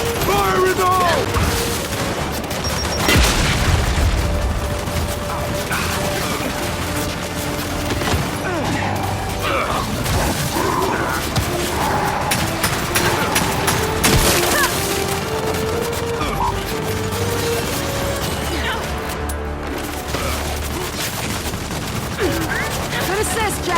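Heavy, continuous gunfire and explosive bursts from the shooter Gears 5, loud and dense throughout a long battle, with voices shouting intermittently over the barrage.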